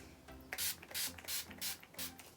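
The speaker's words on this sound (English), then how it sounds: "What I like to do is spray my face first before I put any mascara on" Four quick spritzes of face setting spray misting onto a face, evenly spaced about half a second apart, close by over a faint background hum.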